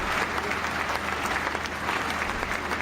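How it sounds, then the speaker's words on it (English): Audience applause fills a building, dense and steady clapping throughout with crowd noise, no voices on top. "We brought the claps for you."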